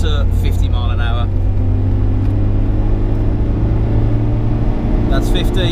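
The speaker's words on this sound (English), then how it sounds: "here goes, 20 mile an hour, and we're just going to accelerate as hard as we can" A car accelerating flat out from 20 to 50 mph on a dyno, fitted with a standard pin and no boost ring, gives a loud, steady engine drone and rumble that builds throughout, with brief faint voices near the start and end.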